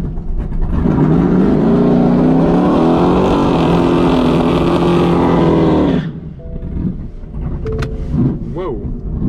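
A nitrous-fed donk car launches at a drag strip, its engine roaring loudly and steadily for about six seconds before cutting off abruptly, leaving crowd noise and faint voices behind.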